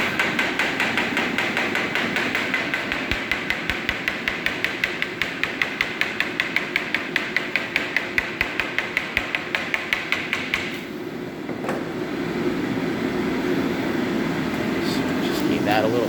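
A hammer taps steadily against the glass of a custom UTV windshield on a Polaris RZR 900S build, a rapid even series of sharp knocks over a constant fan-like hum, then the tapping stops and the hum continues.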